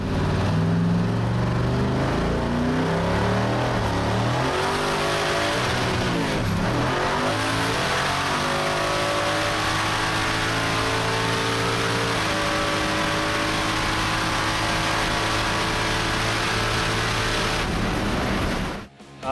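A twin-turbo V8 Jeep roars hard under full acceleration through a standing half-mile run, its loud engine sustained and rising through gear changes for nearly twenty seconds before cutting off abruptly.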